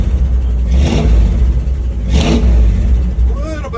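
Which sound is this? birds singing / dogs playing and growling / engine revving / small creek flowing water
engine revving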